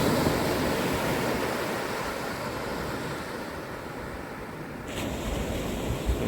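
Waves wash steadily on a quiet, empty beach, a continuous near roar of surf with some wind buffeting the microphone and no voices.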